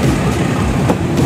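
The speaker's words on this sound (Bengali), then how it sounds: "তো আলতাপনগর রেলওয়ে স্টেশন থেকে ছাড়লো" A passenger train pulls away from Altapnagar railway station, a steady loud rumble of wheels and carriage noise heard from on board, with faint rhythmic clacks over a brief stretch.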